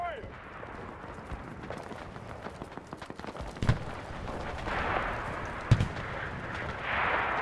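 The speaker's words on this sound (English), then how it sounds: "I'm going to call in an artillery strike really quick." An artillery strike in the World War II shooter Enlisted during a D-Day beach invasion, with distant booms and scattered gunfire, two sharper impacts standing out against a continuous battle rumble.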